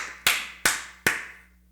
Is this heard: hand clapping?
yes